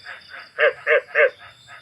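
A male field frog calls for a mate at close range, giving three loud, evenly spaced croaks between softer repeated calls in a steady rhythm, with no talking.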